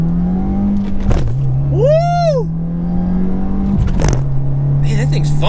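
A turbocharged Subaru WRX engine drones steadily and loudly from inside the car, with two brief dips where gear changes break the pull, while people shout and talk over it.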